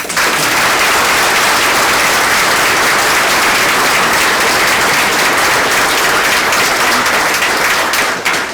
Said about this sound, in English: I think we owe a big round of applause once again to our inductees here tonight